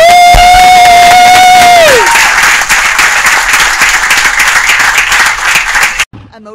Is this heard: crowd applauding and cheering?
yes